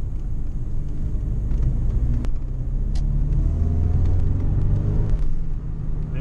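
A Ford Sierra RS Cosworth collector car's engine drones steadily from inside the cabin while driving, a low, even rumble that swells gently, with a few faint clicks and ticks.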